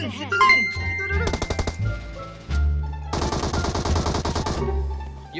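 Rapid bursts of automatic gunfire in a shooter video game, two sustained volleys of crackling shots with short isolated pops between, loud and close, with a player talking over them.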